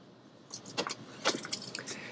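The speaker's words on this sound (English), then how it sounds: "The key fob for the Porsche Macan T." Key fob of a 2024 Porsche Macan T handled inside the car, giving a few light metallic jingles and clicks at close range over a quiet cabin background, no talking.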